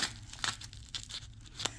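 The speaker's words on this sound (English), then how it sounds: "So I'm just going to cut this open." Scissors cutting open a mailed package, a series of short sharp snips and tearing crinkles of plastic or paper spaced irregularly at close range.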